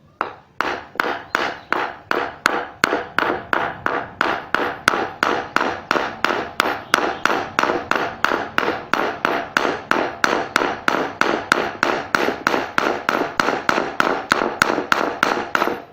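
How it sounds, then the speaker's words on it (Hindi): Hammer strikes an iron nail hard in a steady, rapid series of about fifty sharp metallic blows, each with a quick decay, loud and close with no talk. "Beat the iron nail hard."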